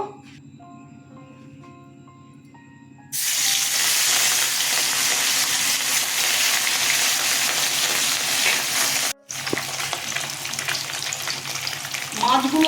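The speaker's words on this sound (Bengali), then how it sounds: "তেল গরম হয়ে গেছে এবার মাছ ছেড়ে দেবো" Katla fish pieces go into hot oil, and a quiet kitchen suddenly bursts into a loud, dense sizzle that continues with a brief break before bubbling on strongly.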